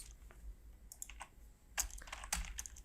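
Sparse clusters of computer keyboard keystrokes as CSS text-shadow code is typed for a React clock project, a few quiet taps and then sharper bursts, close up with no speech.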